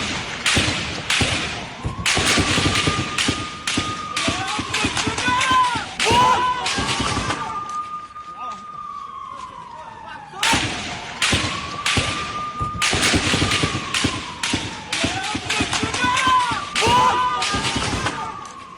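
Continuous gunfire in the West Bank, bursts of sharp cracking shots in rapid clusters, loud and echoing, with a whining tone rising and falling underneath and short lulls between volleys.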